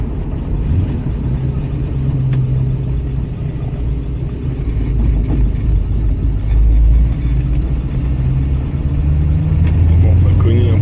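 Engine of a 1971 Chevrolet Nova with a manual gearbox droning steadily while driving on a rainy road, a low rumbling cabin sound with someone talking over it throughout.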